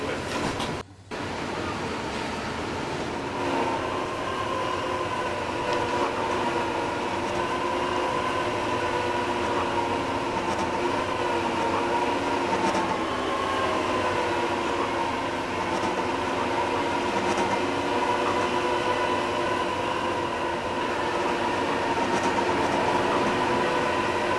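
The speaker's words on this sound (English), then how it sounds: "As you can see, these trains are still normally going to their destinations." Simulated NJ Transit and Amtrak trains run in the Trainz game, a continuous rumbling rail drone with a steady tonal hum, loud and unbroken, and no voices.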